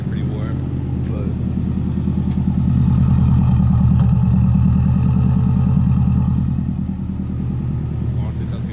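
Subaru Forester engine idling while already warm, a deep steady rumble with a rough, diesel-truck-like throb that holds evenly throughout, close and loud, swelling slightly in the middle.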